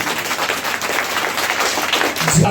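Loud, dense applause from a church congregation fills the space, steady clapping throughout with a slight swell near the end.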